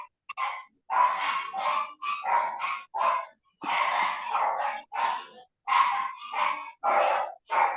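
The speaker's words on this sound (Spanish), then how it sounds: "Voy escuchando unos perritos al fondo" Small dogs barking repeatedly in the background, a steady run of sharp yaps and yelps with only brief pauses between them.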